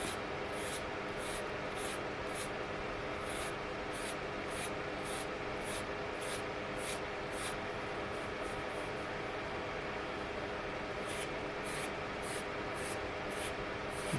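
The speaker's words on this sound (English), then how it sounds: "So I put a kind of curve in the razor blade as I drag it across." Steady, close scraping of a curved razor blade dragged across a flat guitar body, with rhythmic strokes repeating about every half second and a few pauses.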